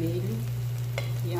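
Green, red and yellow bell peppers and tomatoes sauté in a pan for a tripe stew with potatoes, carrots and calabresa sausage, giving a soft, steady sizzle under a low hum, with one brief clink.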